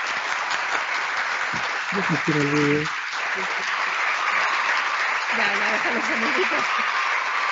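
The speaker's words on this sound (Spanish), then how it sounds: "Ovación de gala." Applause after an online escape game about the climate emergency, a continuous even patter of clapping with people talking and brief tonal sounds over it.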